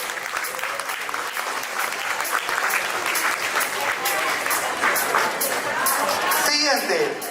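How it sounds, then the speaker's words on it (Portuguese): Audience at an awards-night ceremony breaks into steady applause, a full, continuous wash of clapping lasting several seconds, with some faint voices and a brief whistle-like sweep near the end. "Fuerte las palmas para ellos."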